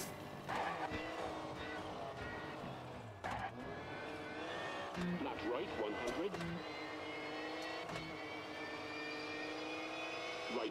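A rally car engine in the video game WRC Generations revs and whines with a high turbo-like whistle, steady and close throughout, with brief gear-shift dips.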